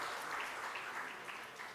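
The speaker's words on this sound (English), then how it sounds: "big round of applause to all the participants" An audience at an awards ceremony applauds in a short, steady burst of many hands clapping, heard faintly from a distance.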